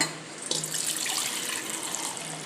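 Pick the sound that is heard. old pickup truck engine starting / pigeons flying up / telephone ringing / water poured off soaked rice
water poured off soaked rice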